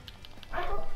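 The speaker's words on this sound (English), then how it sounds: "my dog's barking again" A pet dog barks nearby indoors, a single sharp bark or yelp following faint rhythmic game sounds.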